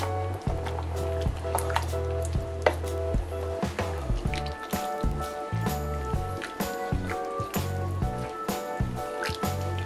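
Bangladeshi beef bhuna, simmered until watery, is stirred in a pot, giving repeated wet squelches, drips and thick bubbling pops in an uneven rhythm, close and fairly loud.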